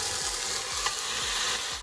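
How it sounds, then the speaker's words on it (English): A 2.5-pound beef roast sears in olive oil: a loud, steady sizzle and crackle with a rhythmic scraping or stirring underneath, continuing without pause. "I'm going to put a little bit of olive oil in so we can sear our roast."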